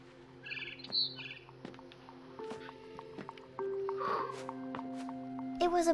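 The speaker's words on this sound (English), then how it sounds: "Then I heard chirping outside my window." Barn swallow chirping in the video game What Remains of Edith Finch, short high chirps scattered through the clip amid soft clicks, tonal game music and quiet background sounds.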